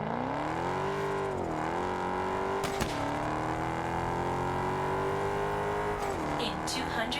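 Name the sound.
car engine and backfire in Test Drive Unlimited Solar Crown video game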